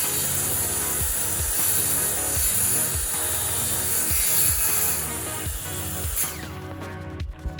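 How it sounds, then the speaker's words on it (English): A saw cuts through the wooden body of an organ propped on chairs in steady, rhythmic back-and-forth strokes, loud and close, before the cutting stops near the end. "We didn't have any sawhorses, so we used Cheers. our sawing chairs,"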